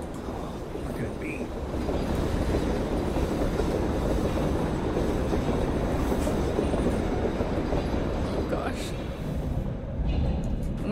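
A train wagon in the horror video game Reveil rolls along rails with a constant, heavy rumble and clatter, and faint metallic squeals rise briefly above the steady drone.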